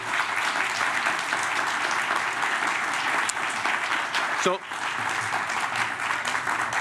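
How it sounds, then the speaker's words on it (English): A large audience at a thank-you event in Austin claps in a steady, dense round of applause that fills the whole stretch, with someone speaking briefly over it. "One more round of applause."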